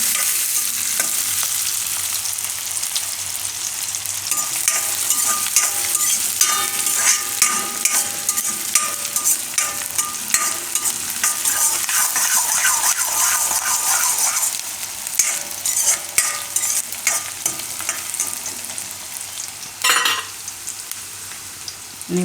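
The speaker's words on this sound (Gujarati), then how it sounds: "ડુંગળીને થોડીક વાર પાકવા દેવું, અડધીક મિનિટ માટે તેલમાં" Onions fry in hot oil in a pan for Gujarati mamra bateta, making a loud, bright, continuous sizzle close by that crackles steadily, with a few stirring scrapes and a sharp knock near the end.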